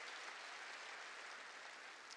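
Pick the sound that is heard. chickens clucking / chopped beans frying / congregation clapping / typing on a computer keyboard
congregation clapping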